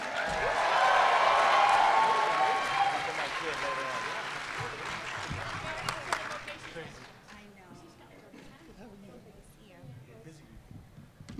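Applause and cheering for Karen Ashley at a convention panel swell loudly in the first few seconds, then thin out and fade into scattered claps and murmuring crowd voices.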